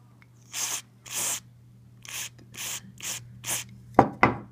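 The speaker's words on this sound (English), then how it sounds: "I'm going to kind of spray it on each side and kind of turn it so that it gets clean." Aerosol MAF sensor cleaner sprayed onto the mass air flow sensor of a 1997 Mercury Mountaineer, heard as six hissing bursts at a steady pace, each about a quarter to half a second long, followed by two short clacks.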